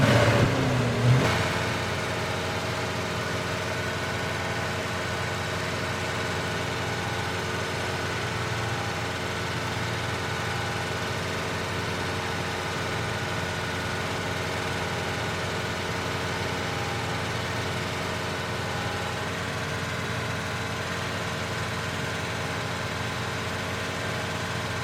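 Ford Mustang Cobra 5.0L V8 in a Fox Body, running on seven cylinders with hesitation, held at a steady rev of about 2,000 RPM. After a brief opening blip, the engine drones evenly and loudly at close range for the rest of the clip, with no speech.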